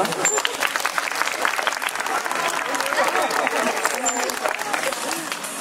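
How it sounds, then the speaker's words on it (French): Zoo audience applauding an animal after its trick at a safari park, dense clapping from many hands close by, steady throughout with a voice talking over it. "je pense qu'on peut l'applaudir"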